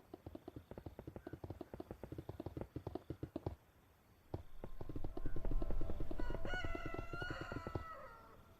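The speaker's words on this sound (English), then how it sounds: "How do I hear a rooster if I'm in a cave?" A rooster crows in the Minecraft video game over a quick run of clip-clop hoof-like footsteps, with the crow rising near the end of the stretch, in a cave setting.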